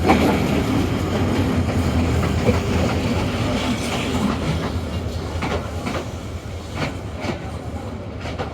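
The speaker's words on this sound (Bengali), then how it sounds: "চারটা চল্লিশের ট্রেন এখন তিনটা চল্লিশে স্টেশনে এসে ঢুকতেছে" A train rumbles loudly and close by as it pulls into a station, wheels clattering over the rails in a continuous heavy roar that gradually eases.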